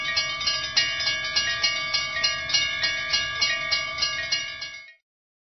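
A railroad crossing bell rings in a fast, even, metallic clang, loud and close, for about five seconds before cutting off abruptly.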